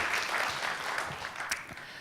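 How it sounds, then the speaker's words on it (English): An audience at a presentation applauds, a brief burst of scattered clapping that sounds somewhat distant and fades slightly over two seconds. "an even bigger round of applause."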